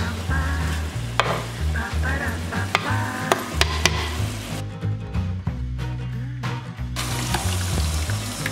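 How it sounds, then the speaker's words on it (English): Onion and mixed vegetables sizzle in a hot pan while a utensil stirs and scrapes in irregular bursts, with the frying crackle dropping out briefly partway through. "Okay, so first we put the onion. Let's put in all the veggies."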